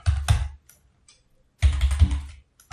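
Two short bursts of rapid clicking keystrokes on a computer keyboard while typing a SAS query, close and clear, with a pause between them.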